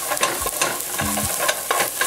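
Onions, garlic and spices scraped and stirred quickly in a hot pot for chicken coconut garlic soup, a steady close sizzle broken by repeated spoon scrapes against the bottom.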